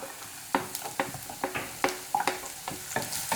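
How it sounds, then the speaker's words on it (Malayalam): Twenty or so finely chopped small shallots fry in a pan, a soft sizzle punctuated by irregular close scrapes and knocks of a stirring spoon. "ഇരുപത് ഇരുപത്തഞ്ച് ചെറിയുള്ളി ചെറുതായിട്ട് മുറിച്ചെടുത്തതാണ് അത് ഇട്ട് കൊടുക്കാം"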